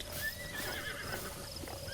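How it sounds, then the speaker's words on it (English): A wild horse neighs in a Zelda video game, a bright, wavering whinny over faint hoof clip-clops and soft game ambience, with no talk. "Tell me something more satisfying than taming a wild horse in Zelda."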